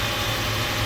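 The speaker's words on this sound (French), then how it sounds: "Tant que ça fait des bulles, on laisse le moteur tourner" A car engine idling while its cooling system is bled of coolant, a steady low rumble held close and even throughout with no talk.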